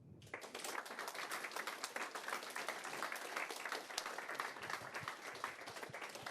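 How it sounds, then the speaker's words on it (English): Conference audience applauding a panel of five speakers, dense sustained clapping from many hands that starts abruptly and holds steady, heard fairly faint and at a distance. "if we could just have one more big round of applause for the 5 speakers"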